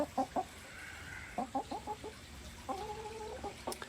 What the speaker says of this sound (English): And this chicken is gonna come jump on me.